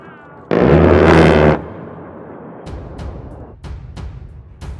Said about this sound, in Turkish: Etki menzili 1200 metre olan top ateş etmeye başladığında çok farklı bir ses çıkartıyor.